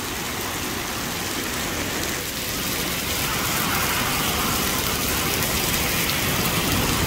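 Hail pelting down in a storm, a dense continuous roar of hard pellets striking surfaces that grows slightly heavier midway through.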